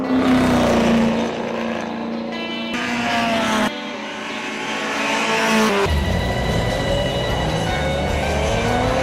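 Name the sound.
race car driving in an auto race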